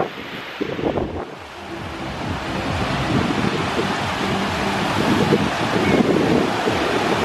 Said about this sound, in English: It's super windy, but look at those waves.